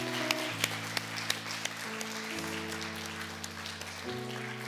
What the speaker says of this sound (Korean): 우리 나오실 때 우리 큰 박수로 한번 우리 환영하면 좋겠습니다